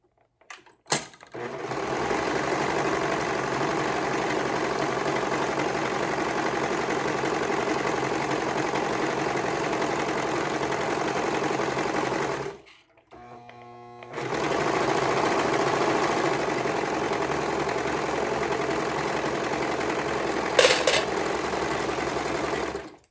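A sewing machine stitches a sleeve on with a half inch seam in a steady, continuous whir, stops briefly for a short pause with a little clicking, then runs again at the same even pace.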